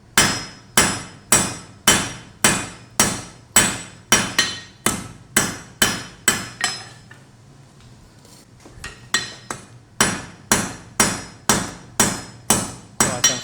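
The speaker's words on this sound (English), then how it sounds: "I'm making another shoulder right there" Rapid, regular hammer blows ring out on hot metal over an anvil as a blacksmith forges a shoulder on a leaf pendant, bright metallic strikes in steady bursts with a short pause midway before the pounding resumes.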